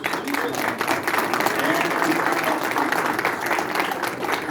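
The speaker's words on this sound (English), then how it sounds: "let's give Jordan a big round of applause" Steady, dense applause from an audience honouring Jordan at a Lover's Aloft winners ceremony, sustained and even throughout with a faint murmur of voices underneath.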